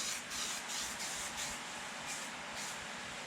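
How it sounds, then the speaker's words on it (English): Slow-evaporating thinner sprayed onto the overspray edge of automotive paint during a rocker panel rust repair, a steady quiet hiss with faint rhythmic pulses from the spray gun, heard alone. "spraying some really slow evaporating thinner on your overspray edge"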